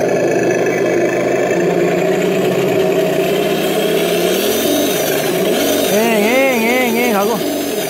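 An RC car sound module plays a simulated engine: a steady mid-pitched drone that climbs and then warbles up and down in quick revving swells near the end, loud and close.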